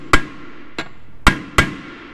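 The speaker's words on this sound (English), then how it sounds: "And then we'll just hammer it into place." Four sharp hammer blows drive a part into place during a Honda/Acura K series transmission build, spaced unevenly with short ringing decays, close and loud with no talk.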